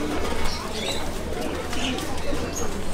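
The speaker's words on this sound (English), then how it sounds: "the more I'm realizing how many birds are crammed into one cage" Caged pigeons or doves at a crowded bird market coo softly in repeated low calls, mixed with faint chirps and general market bustle, while people talk nearby.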